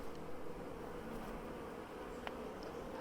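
Honey bees buzz around an open hive in a dense, continuous drone that stays steady and fairly close, with only faint scattered handling noises underneath.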